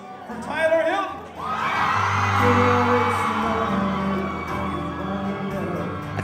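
A concert audience at a New York theater erupts in loud sustained cheering, whooping and applause right after an announcer's voice, the roar filling the room and holding for several seconds.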